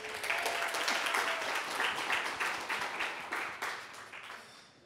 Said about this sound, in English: she deserves a round of applause for Carrie